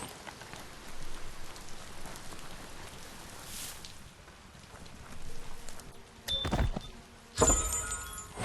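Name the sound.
rain in the video game Biomutant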